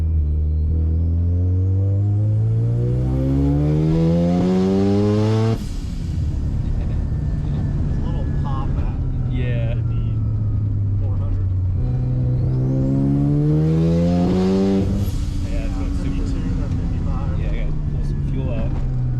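A four-rotor rotary engine car revs hard at a race track at sunset, its close, loud wail climbing in long sweeping pulls, briefly dropping, then rising again.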